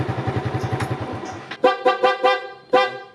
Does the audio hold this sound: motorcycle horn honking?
yes